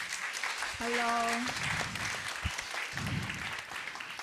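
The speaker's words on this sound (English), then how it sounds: "I think you should start with a big, big round of applause for her" Applause from a design conference audience welcoming a performer, moderately loud clapping that runs under a brief spoken greeting and a sung or tonal voice.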